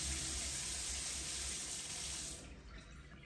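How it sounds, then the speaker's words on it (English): Tap water running steadily into a sink while parsley is washed by hand, a close continuous splashing flow that cuts off and fades near the end. "by normal water, by tap water"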